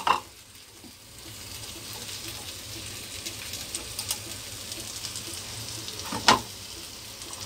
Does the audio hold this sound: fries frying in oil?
yes